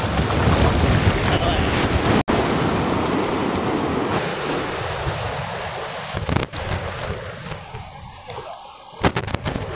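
Sea waves roll and surge beneath a floating bridge in Kozhikode, Kerala, as a loud, continuous roar of churning water mixed with heavy wind buffeting the microphone, with no clear talk over it.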